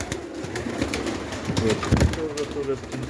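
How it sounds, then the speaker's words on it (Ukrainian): Soft, low pigeon coos repeat over a murmur of background noise, close by. "Ось такі голуби."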